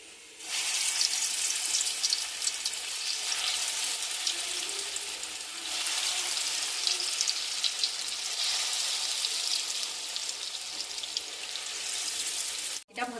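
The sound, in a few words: frying bora fritters in hot oil in a wok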